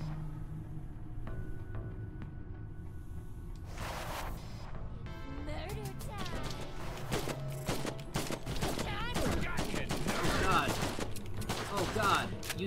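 Video game gunfire in bursts and rapid volleys over a rumbling game soundtrack, growing busier and louder toward the end, with a player's voice heard briefly.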